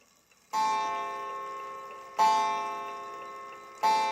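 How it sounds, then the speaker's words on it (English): An antique 1913 Ingraham black mantle clock with its back off, striking its gong: three evenly spaced, resonant metallic strokes, each sustaining and decaying before the next, in a quiet room. "I will engage the gong with, or the chime, while it's turned around."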